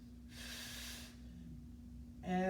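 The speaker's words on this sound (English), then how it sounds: "Breathe." One audible exhale, a hissing breath of about a second, during a stick mobility workout, with a brief voiced sound at the end and a low background hum.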